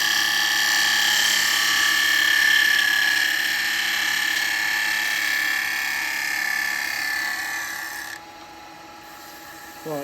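A turning gouge cuts a wooden bowl on a lathe, smoothing a bump on a bevel-rubbing pass, a steady loud whirring scrape that holds for about eight seconds before the cut eases off and the spin continues more quietly.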